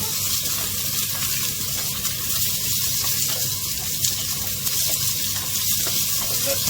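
Onion and chicken gizzards fry in a pan, giving off a steady, close sizzling hiss that holds at an even level throughout, with no talking.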